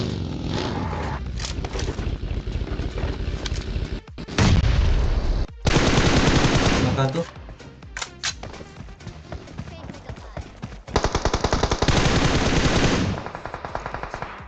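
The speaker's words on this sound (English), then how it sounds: "Jadi ada tembakan." Gunfire in the mobile battle-royale game PUBG Mobile: loud bursts of automatic weapon fire and rapid shots come in dense stretches, with short pauses between volleys, while players talk over the action.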